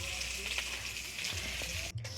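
Loud, steady sizzling and crackling of food frying in a wok, close up, with a brief scrape near the end.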